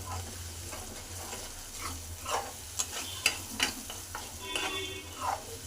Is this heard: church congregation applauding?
no